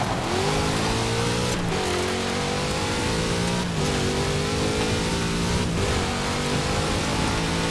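A big Chevrolet engine in Forza Horizon 4 revs hard and loud, rising through the gears with several sharp shift breaks, a continuous roaring drone up close with no talking.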